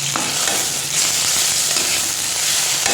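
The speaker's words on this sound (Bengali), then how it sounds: "পেঁয়াজটা দেখো একটু ভাজা ভাজা হয়ে গেছে" Onions fry and sizzle in a pan with steady hissing oil, broken by close scraping stirs, continuous and fairly loud with no talking.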